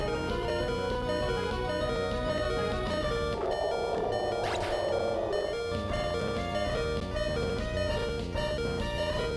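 Electronic beeping tones from the Game Boy Advance game Pokemon Ruby, played as a randomizer, forming a continuous busy chiptune-like stream of bright tonal bleeps with a brief noisy burst midway, loud and steady throughout with no talking.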